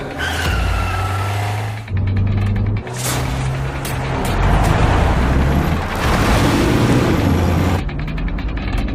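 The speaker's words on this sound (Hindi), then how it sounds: "राज ने अनन्या की कार निकाली और सबके साथ अभिनव जिस टैक्सी में था उसे फॉलो करने लगा।" A car drives and skids in a dramatized story scene, with loud mechanical rattling, engine roar and screeching tire noise in several bursts that swell toward the middle and break off briefly.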